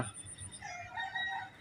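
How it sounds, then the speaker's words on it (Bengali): A rooster crows on an old Dhaka morning, its long drawn-out call rising and then holding steady, close and clear over a low murmur of background noise. "সেই মোরগের ডাকটা শোনা যাচ্ছে।"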